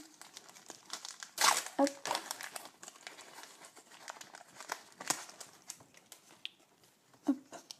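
Panini Tour de France sticker packs are torn open by hand, crinkly wrapper plastic rustling in uneven bursts with sharper rips, close up, while a voice speaks French intermittently over the handling.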